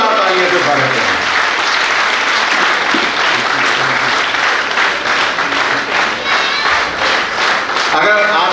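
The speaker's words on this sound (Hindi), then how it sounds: "जोरदार तालियों से स्वागत करें।" An audience at a large reunion gathering in Chandrapur breaks into loud, sustained applause to welcome a guest, with dense clapping throughout that swells slightly at the end.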